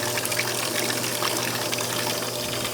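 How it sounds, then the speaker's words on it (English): Water running inside a swamp cooler, a steady close gushing trickle like draining flow, continuous and even with no pauses. "this float right here will actually let the swamp cooler know when there's too much water, and it will stop releasing water"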